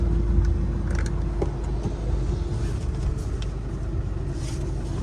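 A Nissan Navara pickup with a five-speed manual gearbox idles steadily from inside the cab, a low, even engine hum with a few faint clicks and rattles.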